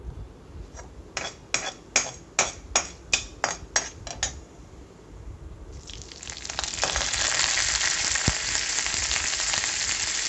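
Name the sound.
curry leaves and urad dal frying in hot oil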